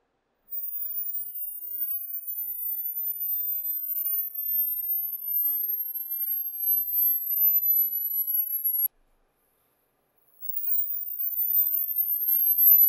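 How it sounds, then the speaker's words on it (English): A very high-pitched treble test tone from Audioengine A2+ speakers, a thin sustained whine that slowly glides downward, cuts out for a moment, then returns. "So we're testing the treble right now."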